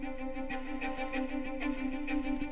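Plucked strings repeat in a steady rhythmic pattern over a sustained low drone, loud and continuous with no voices.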